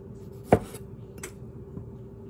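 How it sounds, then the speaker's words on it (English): A knife cuts cherry tomatoes in half on a board for an antipasto salad. A sharp close chop lands near the start and a softer second cut follows, with no talking. "we're just going to slice those in half"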